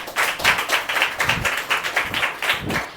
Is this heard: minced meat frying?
no